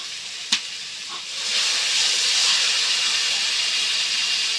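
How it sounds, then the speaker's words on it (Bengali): Water poured onto lightly fried spices in a pan sets off a sudden loud, steady hissing sizzle after a sharp clink, the steam noise holding strong and even to the end. "মশলাটা হালকা ভেজে নিয়েছি, এখন একটু জল দিয়ে দিচ্ছি অল্প করে।"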